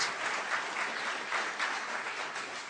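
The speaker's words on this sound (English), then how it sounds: "it's the first time, but the last opportunity that you have to applaud" Sustained applause from an audience at the opening session of a tribunal in London, steady dense clapping that fills the room with slight swells, no voices over it.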